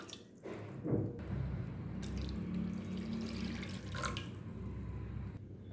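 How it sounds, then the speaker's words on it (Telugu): About a glass and a half of water is poured into a kadai for mushroom pasta, giving a close, continuous splashing pour with a few louder gurgles. "ఒక గ్లాసున్నర వాటర్ వేస్తున్నాను"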